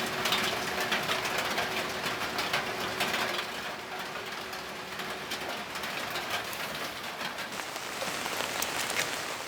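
Steady rain falls around a rural earthen-walled house, a dense continuous hiss of drops on surfaces that stays loud and even throughout, with no voices.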